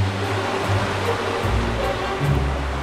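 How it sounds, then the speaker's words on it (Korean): Waves from a rough sea wash over rocks where a female coconut crab clings while spawning, a loud continuous roar of surf with heavier surges partway through, close and without voices. "야속한 파도는 다시 물속으로 밀어버립니다"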